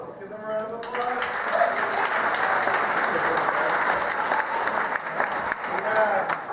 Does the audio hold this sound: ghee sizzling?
no